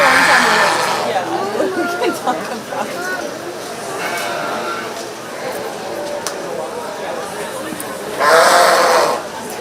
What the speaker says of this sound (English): Coming in the arena now is our middleweight Blackface Market Lambs.